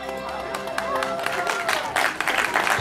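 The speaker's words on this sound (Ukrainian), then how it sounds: "Ваші аплодисменти." A crowd applauds at a ceremony marking the start of construction on a UEFA Hat-Trick stadium, with scattered clapping building into a denser, louder burst toward the end, mixed with voices.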